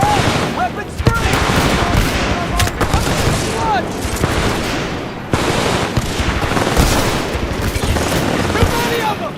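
Sustained gunfire from a Titanfall 2 firefight, rapid bursts and machine-gun volleys overlapping densely at loud, steady level with occasional booms, while voices shout over the battle.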